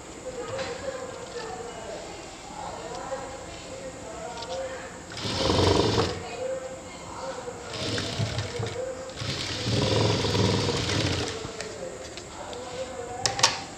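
A sewing machine stitches a jute bag, its motor whirring in two short bursts of a few seconds each, close and fairly loud, while a person talks before and between the runs.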